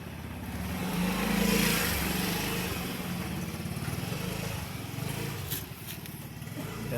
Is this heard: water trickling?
no